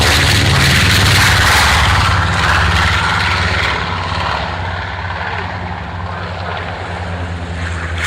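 A military aircraft taxis at the Royal International Air Tattoo airshow, its loud engine roar and propeller drone close by, then easing slightly as it moves off, with no voices audible.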